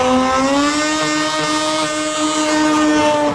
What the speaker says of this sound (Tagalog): ito po ang tunog ng rotary